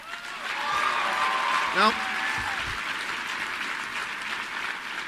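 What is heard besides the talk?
audience applause at CPAC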